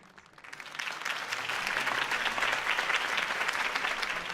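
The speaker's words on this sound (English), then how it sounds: "If only Mr. Wayne, my campaign's largest backer, could have heard that applause" Crowd applause from a political rally for a mayoral candidate in the Batman Telltale video game, swelling quickly from a quiet start into steady, dense clapping that holds strong and close throughout.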